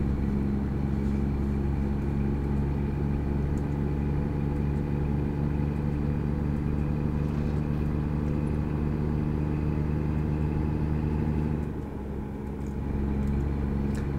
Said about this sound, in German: mit dem Traktor, der lang rast und Staub aufwirbelt